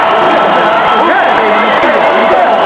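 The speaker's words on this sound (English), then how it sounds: "This crowd's starting to erupt now" A boxing arena crowd roars and swells at a big fight night, a dense sustained wall of voices under loud commentary-like talk with no clear pauses.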